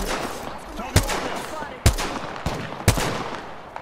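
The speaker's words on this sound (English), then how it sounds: "they're taking shots at us over there." Apex Legends gunfire at close range: several sharp, separate shots about a second apart over a steady rumble of game noise.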